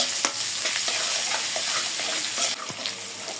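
Chopped onions sizzling in leftover hilsa-frying oil, a steady close crackling fry with occasional stirring scrapes and pops, no voices.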